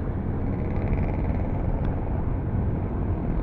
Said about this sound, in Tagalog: Medyo mahangin dito sa lugar na to eh.